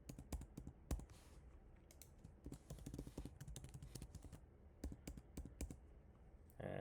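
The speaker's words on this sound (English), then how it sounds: "So let me type in my new password." A new password typed on a computer keyboard, quick soft keystroke clicks in uneven bursts, close but quiet, ending with a firmer key press.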